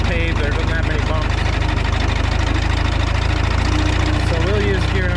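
A John Deere 3010 tractor engine runs in a loud, close, steady low diesel throb with a constant vibrating rumble, and a voice is heard over it at times.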